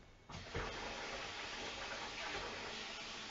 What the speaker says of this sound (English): Water onto the rice.